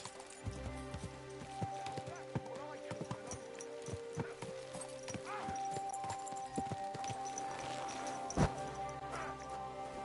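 Horse hooves clip-clop in an irregular patter with a brief whinny in the video game Kingdom Come: Deliverance II, set against steady game music, and a voice speaks over it.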